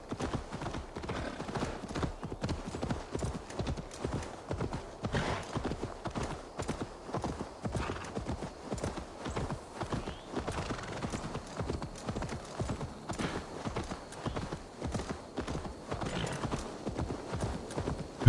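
A horse's hooves pound in a fast, steady galloping rhythm in Assassin's Creed Valhalla, continuous and fairly close, with no voices heard.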